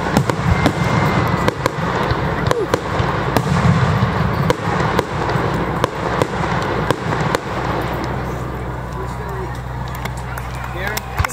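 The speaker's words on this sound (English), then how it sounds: "Got speakers for every firework and put them on it so it's extra loud." Fireworks burst in a rapid crackling barrage at a Fourth of July show in a park, loud and sharp pops layered over a dense rumble, with a crowd talking and cheering throughout.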